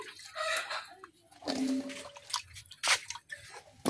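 Cut potatoes are rinsed in water by hand, heard as close, irregular splashes, squelches and knocks in short bursts with quiet pauses between them.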